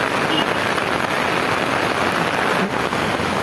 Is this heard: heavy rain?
yes